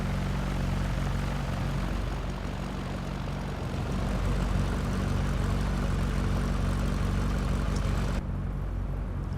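Simulated Cessna 172 propeller engine in X-Plane 11, a steady loud droning hum with a low throbbing tone held through most of the stretch, cutting off abruptly near the end.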